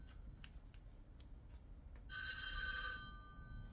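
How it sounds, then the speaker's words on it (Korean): A telephone rings once in a bright electronic burst lasting under a second, heard clearly over quiet workshop background with a few faint clicks and shuffles before it; no one speaks. "좀 이따가 전화가 왔어요."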